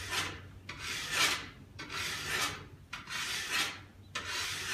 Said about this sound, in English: just sit there and try to file towards that tip. Just nice even pressure.